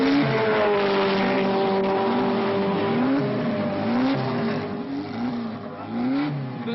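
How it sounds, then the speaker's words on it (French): Renault R8 Gordini race cars on warm-up laps, engines droning steadily with rising and falling revs as they pass, loud and continuous, with no talk. "C'est les tours de lancement."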